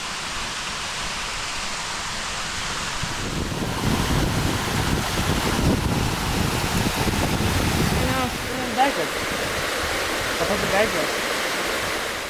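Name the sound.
waterfall and stream at sanctuary in Tepoztlán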